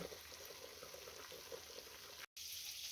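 Steady, faint sizzling of zucchini fritter batter frying in a pan, a continuous crackling hiss with no voices.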